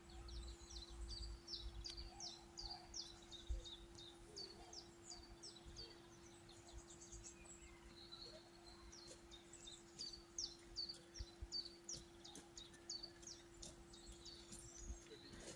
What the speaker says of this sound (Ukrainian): Тихо так пташки співають.